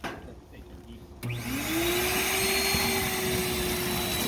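A blower switches on with a sudden click, spins up through a rising whine and then settles into a loud, steady whooshing roar.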